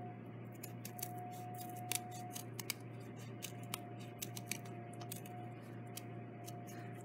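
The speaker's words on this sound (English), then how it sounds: "See how it kind of, as I was cutting it, wanted to shift." Scissors snipping through folded paper while a snowflake is cut, a steady series of short crisp clicks and snips at close range over a quiet hum, with no talk.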